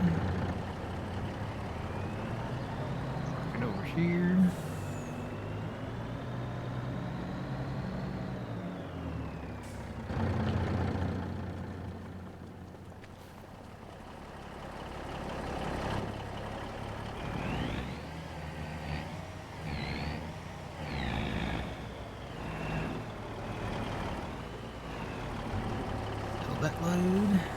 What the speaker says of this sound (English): Alright, let me move this truck.